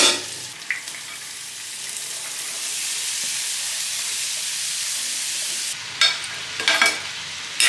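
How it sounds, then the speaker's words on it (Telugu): Dried shrimp and amaranth stems being stirred in a hot pan, with a steady loud sizzle and hiss through most of the clip and scraping stir strokes near the end. "ఇలా నెమ్మదిగా కలపెట్టుకోవాల్సింది."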